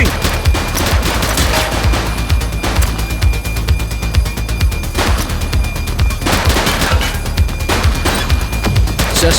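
Rapid, continuous gunfire from a police shootout in The Precinct, with dense overlapping bursts of automatic and single shots filling the whole stretch at close, loud range and no talking.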